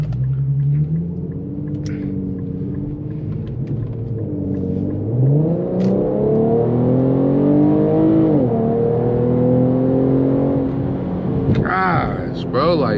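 An Infiniti Q50S with a VR engine pulls hard through the gears, its loud engine note climbing steadily in pitch, dropping briefly at each shift and then rising again, close and continuous, with a short voice near the end.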